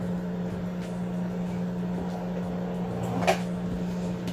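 Singer M3220 sewing machine winding a bobbin, a steady low motor hum with a faint whir running continuously, close and fairly quiet, with a brief small click near the end.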